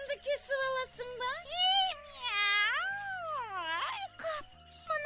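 In the Kazakh cartoon Maqta Qyz, an animated cat lets out expressive, pitch-bending meows, including a long swooping caterwaul, sounding close and prominent with short sharp bursts near the end.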